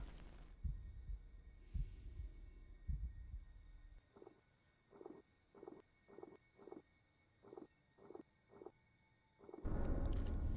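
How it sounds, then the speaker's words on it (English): Heartbeat effect from the puzzle video game The Room, a muffled low double thump repeating about eight times in a slow steady rhythm over a faint ambient hum, with louder rumbling before and after. "Always doing the heartbeat thing."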